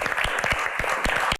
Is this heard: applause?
yes